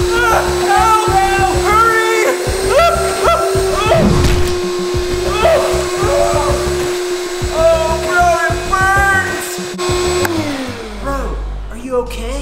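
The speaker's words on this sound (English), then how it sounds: "I'm gonna vacuum the spider up." A household vacuum cleaner drones loudly and steadily, its motor tone holding almost the whole time before winding down near the end, with voices and other sounds playing over it.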